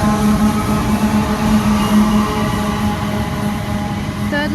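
Freight train locomotives rumble past up close in a loud, continuous rush with a steady engine drone and rolling rail noise, and no voices.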